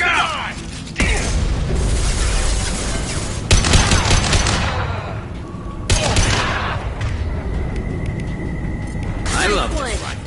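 Rifle gunfire in Mass Effect 2 Remastered, loud bursts of rapid shots with mechanical clatter and booming impacts, coming in several volleys over game combat noise and voices.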